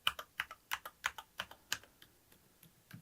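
Soft, light keystrokes on a silent mechanical keyboard: a quick, irregular run of muted clicks, close and quiet, that thins out and fades after about two seconds.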